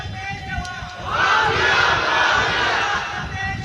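A crowd at a religious talk roars out a slogan together, a loud swell of massed voices that rises, holds and then falls back, with one voice briefly heard before it.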